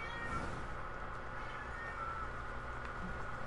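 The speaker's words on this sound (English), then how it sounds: "I'm sure you guys can hear my cat. She's having a fit." A female house cat meows through a steady, dense background noise, her cries moderately close and blended into the din rather than standing out sharply.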